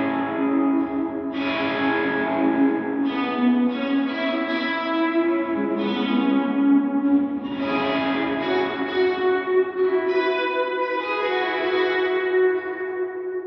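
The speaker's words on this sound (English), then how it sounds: "When I hit it here with it set at 0 milliseconds, you're going to hear that reverb immediately." Guitar strings struck repeatedly through a reverb effect with zero pre-delay, the reverb tail blooming immediately with each strum, forming sustained, washy, shimmering chords that blend into one another with no speech.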